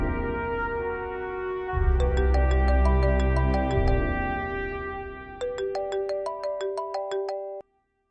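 A phone ringtone plays a bright electronic melody of rapid repeated notes in two bursts, loud and alone, then cuts off abruptly.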